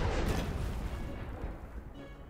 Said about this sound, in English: Just heard a big explosion